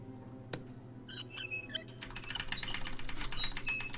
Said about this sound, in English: Mechanical keyboards making a lot of noise.